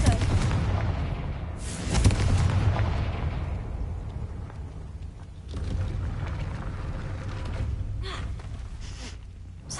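Confringo blasting spell cast in Hogwarts Legacy, a loud fiery burst followed by a rolling rumble that fades, then a second swelling rush of sound.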